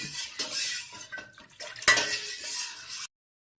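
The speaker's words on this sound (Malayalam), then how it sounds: "ഇടയ്ക്കിടയ്ക്ക് ഇളക്കി കൊടുക്കണം" A spoon scrapes and clinks against a pot of milk brought to a boil while cooking aval payasam (flattened rice pudding), with a few sharp metallic knocks amid steady stirring noise that then stops abruptly.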